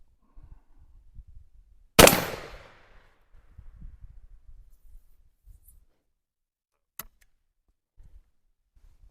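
A Western Auto shotgun fires one loud, sharp blast outdoors, with a brief rolling tail; a faint click follows several seconds later amid quiet background rustle.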